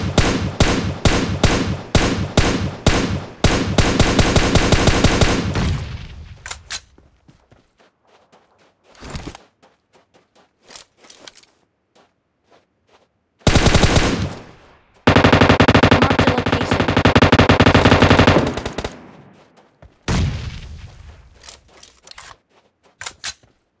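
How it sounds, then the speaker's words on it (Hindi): Rapid bursts of UMP submachine gun fire in PUBG Mobile, loud and close, with long stretches of full-auto rattling separated by quiet gaps holding a few isolated shots. "एक बंदा कहीं दूर से यूएमपी से मार रहा होता है"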